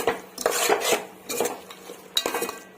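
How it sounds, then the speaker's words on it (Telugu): Soaked green peas being stirred into oil in a pan for mushroom biryani, with a metal spoon clanking and scraping against the pan in several short bursts, close and clear, with no talking. "ముందుగా నానబెట్టుకున్న పచ్చి బఠానీ వేసుకుంటున్నానండి. ఒకసారి కలిపేసుకుంటున్నాను"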